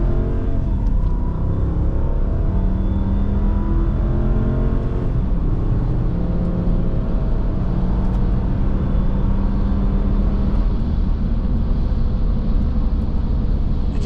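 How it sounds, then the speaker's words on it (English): A 2007 Lexus LX470 accelerates in power mode, its engine rising in a steady, climbing drone heard from inside the cabin, with clear pitch sweeps as it gains speed and no one speaking. "let's put it into the power mode and see what that does. And let's give this Lexus some gas"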